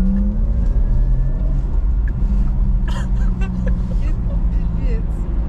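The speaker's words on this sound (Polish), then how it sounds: "jak przyspiesza ten samochód." A Porsche Taycan 4S electric car with 571 horsepower accelerates hard, giving a loud, close cabin rumble and rising electric whine, with brief voices and exclamations breaking in midway.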